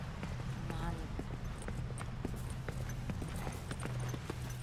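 Horse hooves clip-clop steadily at walking pace in The Last of Us: Left Behind, a dense run of close hoof knocks over a low ambient hum with no talking.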